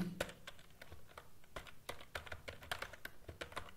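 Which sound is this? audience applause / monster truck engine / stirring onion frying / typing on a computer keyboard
typing on a computer keyboard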